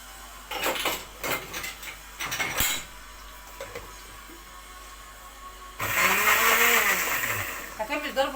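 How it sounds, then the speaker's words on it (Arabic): An electric blender whirs loudly through a mixture of vinegar, lemon, salt, cumin, coriander, garlic and red and green peppers, starting after a stretch of clattering kitchen sounds and running steadily, its pitch shifting as the contents churn. "وهضرب الخليط ده بتاعي كده"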